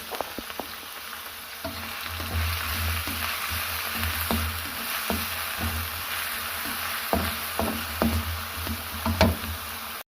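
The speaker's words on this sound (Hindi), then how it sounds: "अब हम इसको फ्राई कर लेंगे।" Chopped onion frying in oil, a steady broadband sizzle running throughout with scattered light knocks and clicks of stirring, close and fairly loud with no talk.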